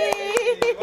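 A child claps hands several times, each clap a sharp separate burst, with pauses between them over a steady tonal background.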